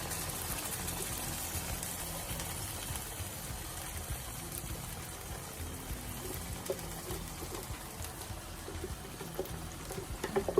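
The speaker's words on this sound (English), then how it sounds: "My blended tomato is going in." Steady wet pouring and trickling of blended tomato into a pan for jollof rice, continuous and close, with faint clinks toward the end.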